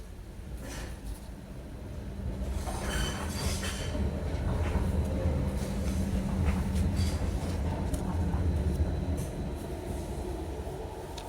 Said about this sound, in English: Excuse the noise of the trams.